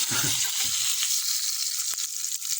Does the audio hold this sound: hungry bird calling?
no